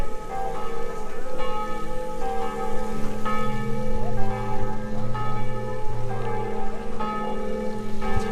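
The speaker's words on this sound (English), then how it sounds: "The bells, the bells." Church bells in Gouzon, France ring out in a steady, overlapping peal, resonant strikes repeating about every second over a soft background hiss.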